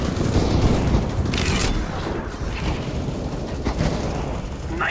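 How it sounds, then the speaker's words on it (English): Sustained, dense gunfire and booming blasts in the shooter game CS:GO, loud and continuous throughout with no clear pauses. "Very good shooting."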